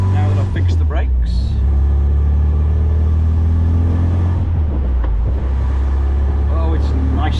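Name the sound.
MGB classic car driving on a street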